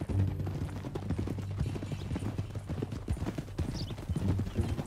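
Horse hooves clip-clop steadily at a walking pace in the Red Dead Redemption 2 video game, fairly close and continuous, with a faint whinny and low background voices.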